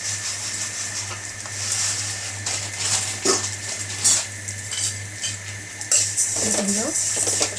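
Vermicelli for payasam fries in a pan, with a steady sizzle under repeated scrapes and clinks of a stirring spoon against the metal, close and moderately loud, with a faint voice now and then.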